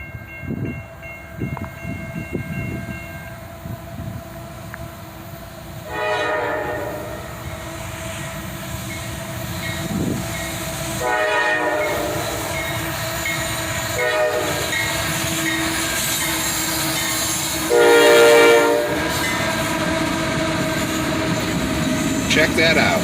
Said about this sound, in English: The Spirit of Dante leads as a pair of YN2 AC44 CWs pull this train.